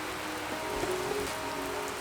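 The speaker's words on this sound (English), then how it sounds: "It's just raining." Steady rain falls outdoors as an even, dense hiss of drops on surfaces, constant and moderately close with no talking.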